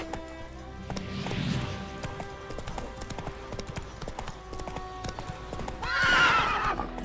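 A horse in The Witcher 3 gallops with a steady rapid clip-clop of hooves, then lets out a loud neigh near the end, the hoofbeats continuing without talk.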